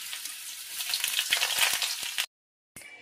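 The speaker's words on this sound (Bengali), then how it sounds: "এবার এই কড়াইতে আলুটা ভেজে নেব।" Potatoes frying in hot oil in a wok, a dense continuous sizzle with faint stirring scrapes before it cuts to silence and resumes briefly.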